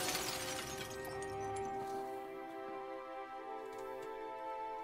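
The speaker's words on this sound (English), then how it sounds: "His face shatters and falls to the ground." Shattering crash in the fishing horror game Dredge as a face breaks apart and falls, opening with a bright glassy burst that fades into a lingering ringing, tonal hum.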